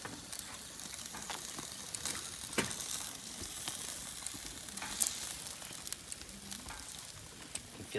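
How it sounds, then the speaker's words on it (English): Fish frying in a pan during Japanese home cooking, a steady, close crackling sizzle with scattered pops and spatters running the full length without pause. "I can feel it sizzling in my hand."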